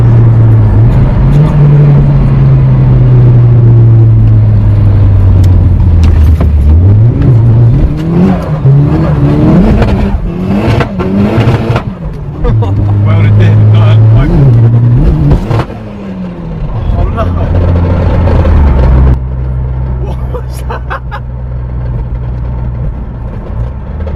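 Nissan 180SX engine on a dyno, a loud sustained pull with the revs rising and falling repeatedly, a harsh roar and rattling peaks in the middle, then settling to a steady lower drone near the end.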